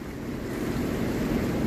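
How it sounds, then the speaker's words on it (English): Water rushing beneath a bridge at Frog Hollow Stone Mill in Middlebury, Vermont, a loud, steady broadband roar with some wind buffeting the microphone and no talking. "Look at this, how this water is rushing."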